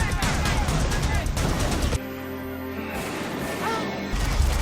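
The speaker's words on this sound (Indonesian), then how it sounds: "ketika anak buah John dan Sterling mulai melesatkan beberapa tembakan sehingga aksi baku tembak pun tak dapat terhindarkan lagi." Loud bursts of gunfire and crashing impacts fill the first couple of seconds, then a quieter stretch of sustained tones before the noise returns.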